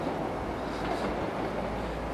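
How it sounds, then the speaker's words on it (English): A continuous low rumbling roar of a train rolling by at moderate distance near a station in Morecambe, steady with no distinct clacks. "You can hear the trains in the background because we're just near the station."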